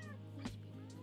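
A house cat meows once, a short, fairly faint cry over a steady low indoor hum, while looking out a window at falling snow on a winter day in Japan.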